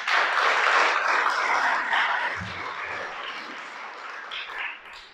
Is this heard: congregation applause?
yes